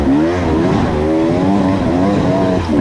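300 dirt bike engine revving hard on a trail, close and loud, pitch climbing and wavering as the throttle rises and falls without a break, no voices.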